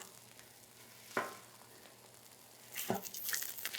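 Bologna slices with a few cuts toward the center sizzle and fry in a pan, a faint steady hiss broken by two brief sharper bursts, the sizzle growing louder and denser near the end.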